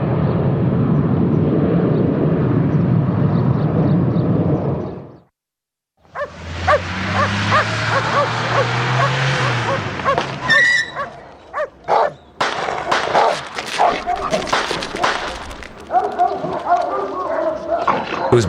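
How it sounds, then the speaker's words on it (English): Drug-sniffing dogs bark in short bursts during a customs training exercise. Voices and other background sound run underneath, with a brief drop to silence partway through. "This is an exercise for drug-sniffing dogs."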